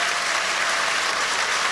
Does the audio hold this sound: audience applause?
yes